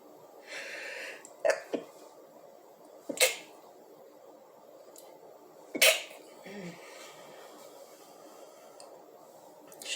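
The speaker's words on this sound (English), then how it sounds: "Just some sneezes." Several short, sharp sneezes burst out at irregular intervals against a quiet background, with faint rustling between them.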